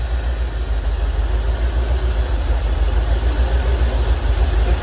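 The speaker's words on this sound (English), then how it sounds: "How is that for an improvement on the idle?" C4 Corvette engine idling after throttle body cleaning, a steady, loud low rumble that holds an even pulse close by without revving.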